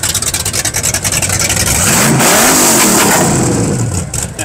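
A 1968 Chevrolet Camaro engine revs up loudly at a fall rod run car show, the pitch rising and falling in a sweep near the middle, with steady crowd and outdoor noise around it.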